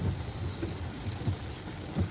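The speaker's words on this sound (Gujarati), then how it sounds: "દેખજો ફૂલ વરસાદ ચાલુ થઈ ગયો છે." Heavy rain falling in Bodeli village, a steady close hiss of rain with low rumbling thuds underneath.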